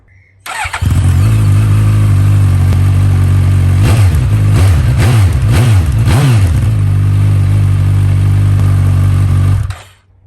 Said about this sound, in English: let's start the bike up, hear what it sounds like with the baffle in